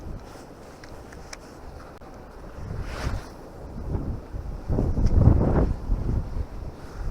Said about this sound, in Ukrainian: Вітер дуже сильний.